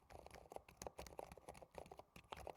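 Fingers type on an Epomaker RT82 quiet mechanical RGB keyboard, a soft, fast, irregular patter of muted keystrokes, faint and close.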